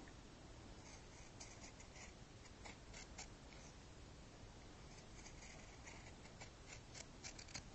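Quiet, repeated crisp snips of pinking shears cutting through fabric, irregular in rhythm, close but faint against a hissy background.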